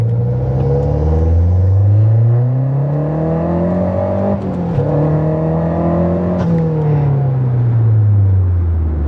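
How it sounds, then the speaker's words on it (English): A Mazdaspeed 3 engine revs hard through repeated flat-foot shifts, the pitch climbing steadily, dipping briefly at each quick gear change, then climbing again, loud and close with no talk. "that's how you do flat foot shifting in a MazdaSpeed 3"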